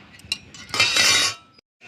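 A kadai wok is set on the stove with metallic clinks and scraping, then a brief rushing burst of noise before a sudden drop to near silence.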